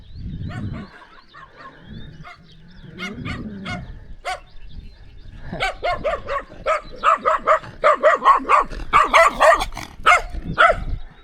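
Dogs bark in the village of Gorodets near Bykhov, starting with scattered barks and building into a rapid, loud run of repeated barking close by.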